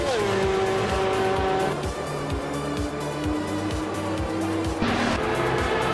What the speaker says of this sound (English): Funny Shell Gaming is driving a 1998 Porsche 911 GT2